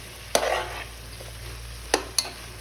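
Food stirred and frying in a pan for a home-cooked dish, with a steady sizzle and a few sharp utensil scrapes and clinks against the pan, close and clear with no talking.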